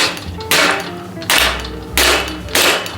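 Four loud, ringing hammer blows on metal parts of a bike, struck at a steady rhythm about half a second to a second apart, close by.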